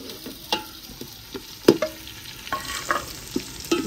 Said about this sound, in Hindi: प्याज मैंने ऐड कर दिया है। अभी इसको ब्राउन होने देते हैं।